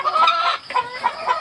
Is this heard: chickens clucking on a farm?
yes